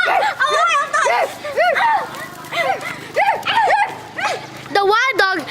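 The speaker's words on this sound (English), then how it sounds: "The wild dog tried to hide on the cave." Repeated sharp barks from a wild dog come in an uneven series of yelps and howl-like cries, close and loud, with voices and ambience behind them.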